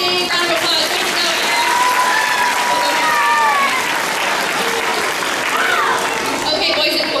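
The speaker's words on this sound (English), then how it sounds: "Let's give Aaron a big round of applause" Sustained applause from an audience, steady clapping that fills the room, with some cheering and voices mixed in.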